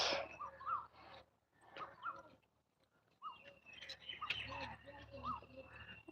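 Birds chirp and call intermittently outdoors, faint and in short bursts, with some insect buzzing and quiet background noise.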